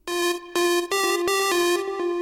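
One of two stacked synth layers in a remix melody plays alone: bright, harmonically rich sustained notes in a steady rhythmic pattern with small pitch steps, loud and up front.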